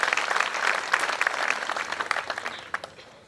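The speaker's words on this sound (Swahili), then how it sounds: "Kwanza tumpigie makofi kwa sababu ya talanta." A school audience claps steadily for a few seconds, dense and fairly loud, with no voices over it.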